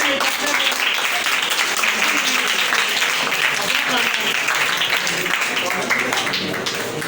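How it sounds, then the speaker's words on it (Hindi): An audience at an Urdu writing competition for ninth and tenth graders applauds a prize winner, with steady dense clapping throughout at moderate level, a voice faintly underneath. "तालियां बजाएंगे।"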